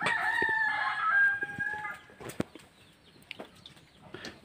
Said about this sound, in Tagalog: Ay manok, isugbat na, Burjak.